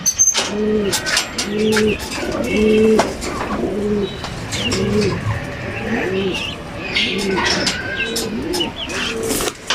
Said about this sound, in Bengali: এখন পর্যন্ত সে ওই স্ট্যান্ডে আসছে তার নিজের জায়গায় নিজে বসে রয়েছে কবুতরটা